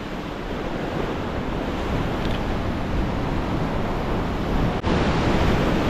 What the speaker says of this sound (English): Man, it is a wide ocean here.